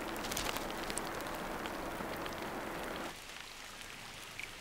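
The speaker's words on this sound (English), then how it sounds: "As the rain reaches the forest floor" Steady heavy monsoon rain pours down on a forest in a dense hiss of falling drops, easing somewhat partway through but continuing.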